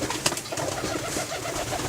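Pigeons coo inside a cage, soft throaty calls overlapping close by, with light rustling and fluttering of wings, and no voices.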